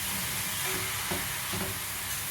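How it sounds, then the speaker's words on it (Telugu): Carrot and palkova halwa frying on a slow flame gives a steady, even sizzle and hiss, with faint stirring scrapes and no talk. "అంతా స్లో ఫ్లేమ్లో పెట్టి మంచిగా ఫ్రై చేయండి"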